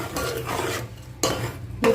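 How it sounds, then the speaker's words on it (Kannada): Jaggery melting in a cooking pot for coconut barfi is stirred with rough scraping strokes against the metal, loud and close in uneven bursts with short pauses, and no one speaks. "ಇಲ್ಲಿ ಒಂದು ಪಾತ್ರೆಯಲ್ಲಿ ಬೆಲ್ಲ ಹಾಕ್ಕೊಂಡು ಕರಗಿಸ್ಕೋಬೇಕು."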